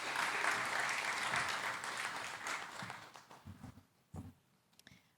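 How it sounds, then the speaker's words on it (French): Applause from an audience at an event on impact entrepreneurs in Madagascar, a loud dense burst of clapping that thins out over a few seconds into scattered claps and stops. "Un applaudissement, s'il vous plaît."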